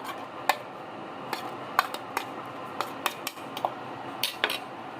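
Chutney is stirred into a bottle gourd raita in a bowl, heard as roughly a dozen sharp spoon clinks and taps against the dish over a soft background hiss.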